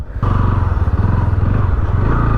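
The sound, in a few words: Pulsar NS160 motorcycle engine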